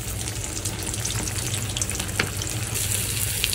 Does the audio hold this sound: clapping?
no